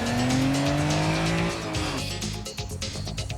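A 1990 660cc kei car runs at full throttle with four people aboard, its engine whining loudly as it revs up, then dropping pitch as it shifts, with faint tire noise.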